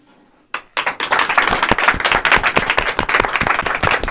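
Schoolchildren break into lively applause to welcome a student receiving a medal for a weekly test, starting abruptly after a brief quiet and continuing as brisk, loud, uneven clapping.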